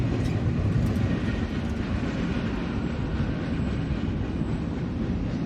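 A freight train rumbles past steadily at moderate distance crossing the Saranac River, a continuous low roar with faint rail noise and no voices.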